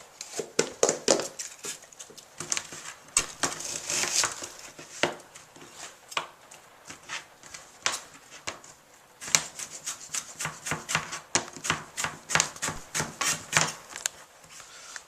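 An onion is chopped with a knife on a cutting board, rapid close-up strikes in quick irregular bursts with brief pauses, steady and moderately loud throughout.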